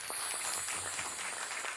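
Soft, steady applause from an audience welcoming finalists at the Leadexport 2021 trophy ceremony, a faint even patter of many hands with no voices.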